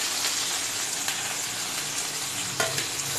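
Chopped capsicum and ginger-garlic paste sizzle steadily in a hot pan while cooking Gobi Manchurian, a continuous close frying hiss with a brief clatter of stirring near the end and no talking.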